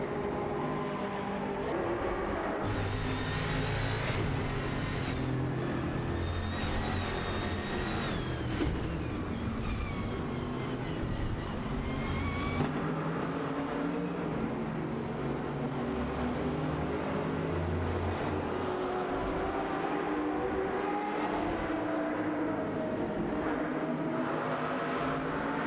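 Racing video game cars run side by side, a steady layered engine drone with shifting pitch lines that swell and whine continuously, close and loud with no talking.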